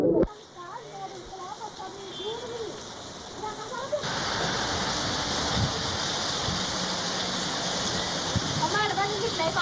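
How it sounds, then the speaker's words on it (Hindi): Rushing floodwater surging through the Adewala area of Jammu, a broad steady roar that thickens after a few seconds and persists, with birds calling faintly at the start. "जम्मू के अदेवाला इलाका में सैलाबी रैले आ गया"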